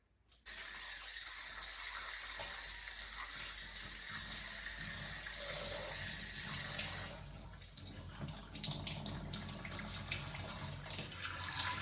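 Tap water gushes steadily over pieces of cut green turmeric being washed in a sink, a continuous splashing stream that shifts in texture partway through as the pieces are moved under the flow.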